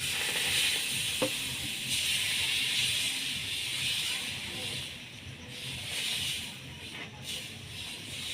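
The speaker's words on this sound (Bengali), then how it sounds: "এবার ওইভাবে আমি একটু একটু করে ভেজে নেব।" Coconut-filled patishapta pancakes frying in a pan give a soft, continuous sizzle and hiss, quiet and close, with a few faint clinks of handling.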